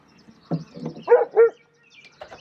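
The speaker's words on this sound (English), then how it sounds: "hear the dog bark" A dog barking outdoors near a home garden in the evening, a few short, fairly close woofs in quick succession with brief pauses between them and a quiet background.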